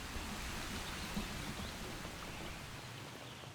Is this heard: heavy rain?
yes